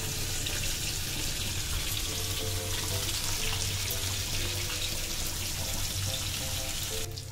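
Sole (lepa) fish frying in a pan with a steady, dense hiss and crackle of hot oil, continuous at moderate level throughout with no voices.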